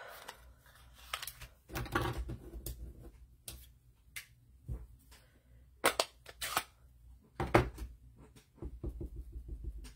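Cardstock being trimmed for a handmade greeting card gives a series of sharp, irregular clicks and snaps, close and fairly quiet, with pauses between the cuts.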